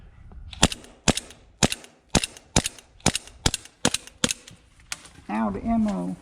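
Airsoft gun fires about ten sharp snapping shots in a steady rhythm at close range, ending with a person speaking.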